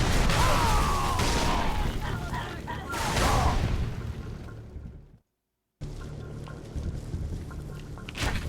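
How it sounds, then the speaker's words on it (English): Gunfire and explosions in the video game Halo 3: a dense, continuous barrage of shots and booms with a player's voice talking over it, a brief silent gap, then more steady firing. "Who's shooting me?"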